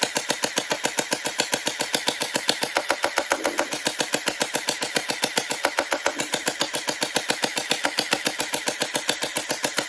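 A Faction Sentinel turret toy blaster fires in a rapid, perfectly regular stream of sharp mechanical bursts, loud and close, running without pause for the whole stretch.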